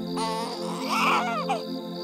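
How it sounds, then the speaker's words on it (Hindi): A baby cries in a forest, a wavering high wail rising and falling over about two seconds, clear and fairly close over a steady background tone. "किसी बच्चे की रोने की आवाज आ रही है।"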